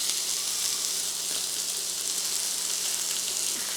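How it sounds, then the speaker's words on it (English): Chicken skin crisping in a frying pan while pressed down with a hot pot on top, a steady close sizzle with a faint watery hiss throughout and no talking. "I press this chicken meat. I want to make it this chicken skin crispy"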